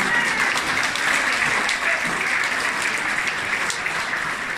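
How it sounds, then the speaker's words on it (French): An audience at a mayor's New Year address in a French village hall breaks into loud, dense, sustained clapping that stays even and close throughout, with no pause or talk over it. "Oui, on peut applaudir, hein."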